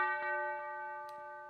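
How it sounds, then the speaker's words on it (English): A single sustained bell tone in a hip-hop beat, layered with a steady harmonic ring that holds throughout, with a few soft percussive ticks underneath and no voices. "And then just a bell."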